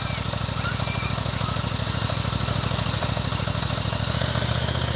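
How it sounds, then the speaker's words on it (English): A farm machine's engine runs steadily and loudly with a dense, chugging low rumble, holding an even rhythm throughout with a slight rise in pitch late on as throttle is added. "So go ahead and start it. Now give it a little more throttle, just a little throttle."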